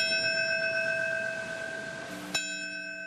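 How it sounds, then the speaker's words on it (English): A memorial bell rings at a September 11 commemoration in Pennsylvania, its long clear tone sustaining and slowly fading, with a soft clank and a fresh strike near the end. No one speaks. "This morning in Pennsylvania, bell rang out and names were read"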